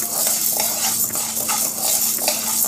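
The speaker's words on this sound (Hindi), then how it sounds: "इसके अंदर चने की दाल को डाल देंगे और इसे मीडियम आंच पर हल्का सा ब्राउन होने तक हम भून लेंगे" Chana dal stirred and roasted in a kadhai over medium heat, a steady dry scraping and rustling with a soft sizzle, repeating in regular strokes about every half second, close and alone with no talk.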